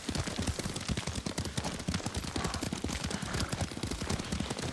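Rapid clip-clop of horse hooves at a steady gallop in Ghost of Tsushima, loud and close, with rhythmic thudding strikes running throughout and no talk over them.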